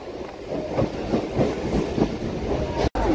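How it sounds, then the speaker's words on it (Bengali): A passenger train that departed Bogura runs along the rails with a steady rhythmic clatter of wheels over rail joints, heard close from inside the moving carriage, with a very brief dropout near the end. "বগুড়া থেকে ট্রেন ছাড়লো 8:02 বাজে।"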